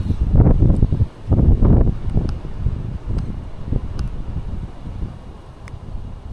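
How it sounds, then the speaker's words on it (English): Gusty wind buffets an outdoor microphone during an FPV drone stress-test flight with a Flywoo Firefly 25 4S, loud low rumbling bursts in the first two seconds easing into a steadier, softer roar with faint rustling. "The wind is picking up now."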